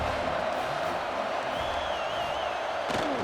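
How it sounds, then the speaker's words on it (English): Video-game stadium crowd noise from a simulated Clemson at South Carolina college football game in EA College Football 26: a dense, steady roar with a brief whistle-like tone partway through and a sharp hit near the end. "The crowd is roaring now"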